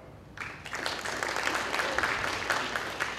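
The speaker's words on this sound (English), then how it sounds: "Show of applause if you think it's white." A conference audience at a skeptics' event applauds in a show-of-hands style vote, a steady wash of many hands clapping that starts abruptly and holds at moderate loudness with no talk over it.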